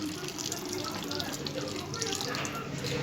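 Water pours into a cooking pot in a steady, continuous rush that fills the short stretch at an even level, close by in a home kitchen while muri ghonto is being made.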